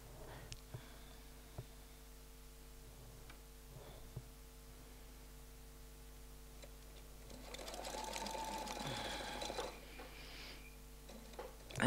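Domestic sewing machine free-motion quilting feathers with templates, faint and quiet at first with sparse ticks, then a steady buzzing stitching run builds for a few seconds before easing off.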